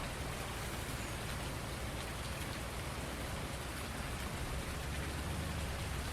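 Steady, dense rain hisses evenly throughout a Farming Simulator 19 rainstorm, a constant wash of droplets at low volume with no breaks and no voices.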